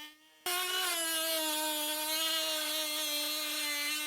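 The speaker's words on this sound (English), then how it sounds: "we can start cutting with the Dremel from the underside of the headlight" Dremel rotary tool cutting into the plastic headlight lens of a Volvo V70, a loud, steady high-pitched whine with strong harmonics that starts abruptly and holds constant close by.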